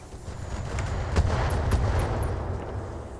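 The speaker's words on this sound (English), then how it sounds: "That's some explosion." Explosions and gunfire from the modded BattleTech mech game Roguetech form a rumbling barrage with a few sharp cracks in the middle, fairly close and loud.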